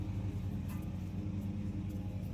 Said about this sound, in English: I apologize about that lawnmower in the background